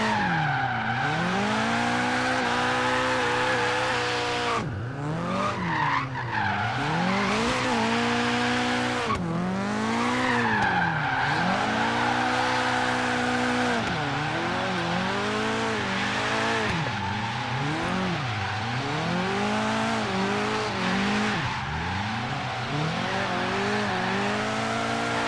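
A Nissan 240SX built after Adam LZ's drift car, sliding through corners in Forza Horizon 3, with its engine revving and falling in repeated sweeps over constant tire squeal and skidding, loud and close for the whole run.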